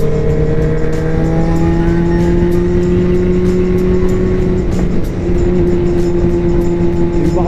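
A Yamaha R1 motorcycle engine runs loud and close in a steady, high-pitched drone, its pitch creeping slightly upward as the revs climb, with no talking over it.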